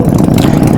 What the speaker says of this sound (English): check the revs of the Harleys